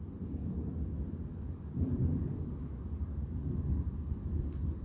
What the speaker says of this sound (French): Je sais pas si c'est du vent ou si c'est la pluie